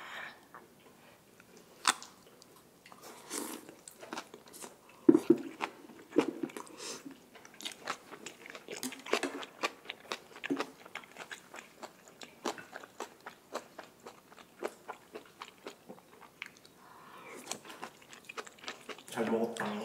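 Grilled Korean beef and green onion kimchi are chewed up close with steady wet crunching and smacking bites, and a voice speaks now and then over the eating.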